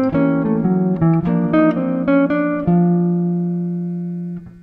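A jazz lick over a sharp-four diminished chord, a trumpet line, runs as a quick flurry of clear, close notes before settling onto one long sustained tone that slowly fades, with no talking.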